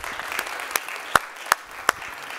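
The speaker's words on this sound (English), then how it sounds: "Come on, let's give Bill a big round of applause." Audience applause at a Google Cloud Next tech conference session, following a speaker, with steady clapping and several sharper individual claps standing out near the end.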